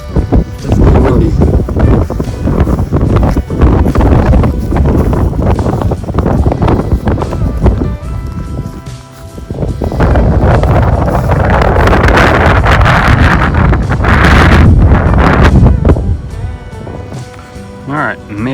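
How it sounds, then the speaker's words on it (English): Strong gusty wind roars and buffets the microphone on the Appalachian Trail during a storm with light rain, almost continuously, loud and rough, easing briefly before surging again. "It's sprinkling right now. Definitely windy."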